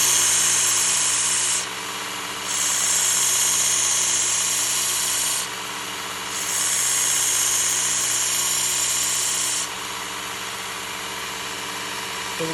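Work Sharp Ken Onion Elite belt sharpener grinding kitchen shears: a steady motor whir with bright, gritty passes of the blade against the belt, three or so, separated by short gaps.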